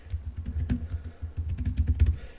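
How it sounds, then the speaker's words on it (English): Quick typing on a tablet's keyboard dock, soft muted key taps in an uneven flurry, close up, with no voices over it. "We can just simply start typing."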